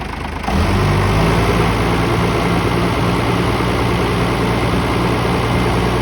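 A car engine at a garage is revved and then held steady at around 2,000 rpm, a loud continuous hum that swells at the start and stays constant, close by, with no talk.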